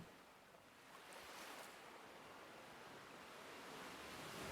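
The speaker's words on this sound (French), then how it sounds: "Il ne reste que le bruit de la mer" Steady wash of sea waves rolling in and breaking, a broad continuous roar that swells slightly louder toward the end, with no voices.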